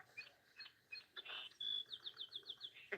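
A sparrow sings a short song of thin chirps followed by a quick run of repeated bright notes, faint and slightly distant over low background noise.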